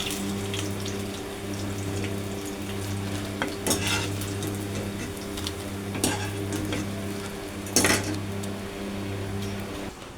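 Flattened rice (chira) pakoras frying in oil, a steady soft sizzle under a low hum, broken by three or four louder scraping clatters of a utensil against the pan.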